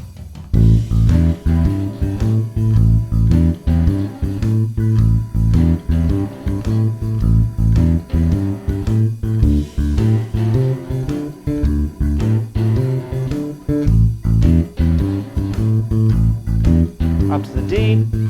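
A blues bass line built on the root, fifth and flat seventh, sometimes doubling each note, plays along with a full backing track, steady and loud throughout with no talking.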